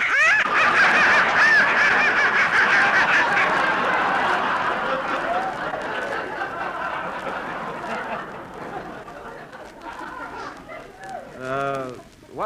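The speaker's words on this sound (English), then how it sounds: "that noise came from some live ducks I've got in the basement." Live ducks kept in a basement break into loud, dense honking and quacking squawks that fade toward the end, with voices talking over the racket.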